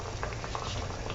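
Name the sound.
hot ghee bubbling, ready for frying sweet tikki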